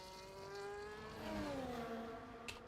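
A McLaren race car sweeps past in a racing video game. The engine whine climbs and then falls in pitch as it goes by, loud and close, with a short sharp tick near the end.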